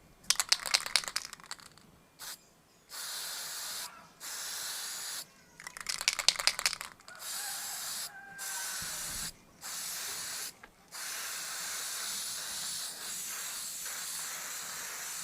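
An aerosol spray can sprays coating onto a decal on a mug in a series of short bursts, each a close, loud hiss, with rattling clicks between the sprays and longer continuous spraying toward the end.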